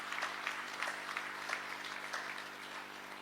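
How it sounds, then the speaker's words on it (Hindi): An audience at a Brahma Kumaris spiritual gathering applauds in a soft, continuous patter of many hands, faint and distant with a low steady hum underneath. "तो सबसे पहले तो आप सभी अपने लिए ही जोरदार तालियों के साथ अपना ही स्वागत करेंगे।"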